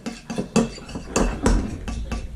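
A spoon stirs slime mixture with blue food coloring in a bowl, giving close, repeated scraping and knocking strokes at an uneven rhythm with no voices.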